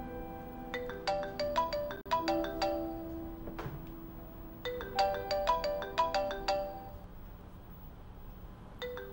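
A mobile phone ringtone plays a bright, chiming melodic pattern in quick repeated note runs, moderately quiet and close, with a short pause in the middle before the tune starts again; no voices over it.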